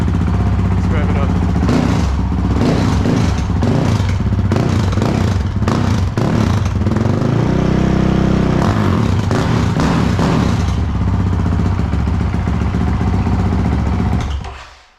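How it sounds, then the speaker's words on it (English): A 2021 Honda CRF450RL dirt bike fitted with a Yoshimura exhaust and Vortex ECU revs loudly and continuously up close, its engine note rising and falling in repeated blips for about fourteen seconds before cutting off. "Let's rev it up."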